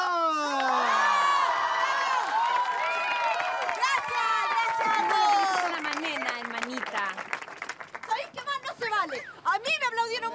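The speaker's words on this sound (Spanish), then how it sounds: "A mí me aplaudieron mucho más." A large crowd applauds and cheers loudly at a university queen event in La Serena, with whoops and children's shouts rising over the clapping before it thins into scattered claps and voices.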